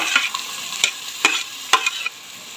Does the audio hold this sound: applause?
no